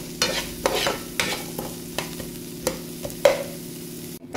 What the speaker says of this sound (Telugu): ఉల్లిపాయలు కలర్ చేంజ్ అయ్యే వరకు కలుపుకోండి.